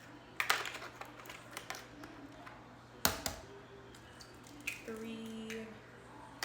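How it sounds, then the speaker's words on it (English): Whole eggs are cracked against a bowl and dropped into cake batter for a coconut cake, making a few sharp, separate cracks with soft wet squishes between them, close by and fairly quiet. "We're gonna add 4 whole eggs."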